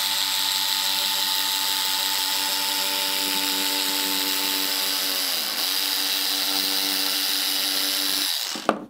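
Electric scissors trimming the edge of quilting fabric give a steady, close motorized whir that holds for about eight seconds and then cuts off sharply. No voices are heard.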